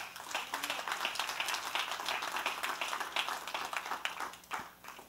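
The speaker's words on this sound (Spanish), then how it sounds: "Denle un aplauso al Señor." A church congregation claps together at a Spanish-language worship service, dense sustained applause throughout at a moderate distance, with faint voices mixed in.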